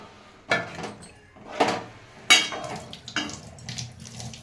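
Water poured and swished over rice in a pot as it is washed for biryani, coming in several separate splashing bursts with clattering between them, close and moderately loud.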